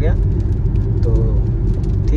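MG Hector Plus driving on a highway gives a steady low road and engine rumble from inside the cabin, loud and constant, with someone talking over it.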